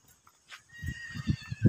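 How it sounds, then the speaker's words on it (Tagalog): A horse neighs close by, a short whinny followed by several snorting, breathy bursts. "May kabayo."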